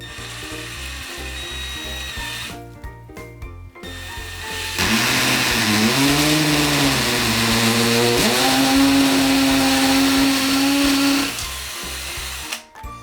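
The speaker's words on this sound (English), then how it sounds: "now it's just time to drill." Power drill boring holes into a wall to mount a TV bracket, a loud sustained whine rising and falling in pitch over several seconds, with a short burst before it and brief pauses between.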